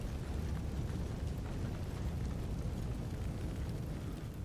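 A fire trap set off by accident in Fallout 4 roars with a steady, dense whoosh of flames, loud and continuous throughout without any talk.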